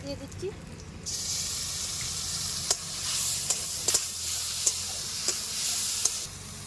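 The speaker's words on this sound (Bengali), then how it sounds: "আমি দিয়ে দিচ্ছি বাটা মশলা আদা রসুন কাঁচা লঙ্কা একসাথে বাটা" A ground paste of ginger, garlic and green chili hits hot oil and sizzles loudly and steadily, with scattered clinks and scrapes of stirring, after a brief quieter moment at the start.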